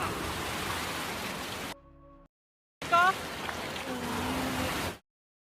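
Heavy rain driven by strong wind during a journey, a steady loud hiss of downpour that cuts out briefly twice before surging back.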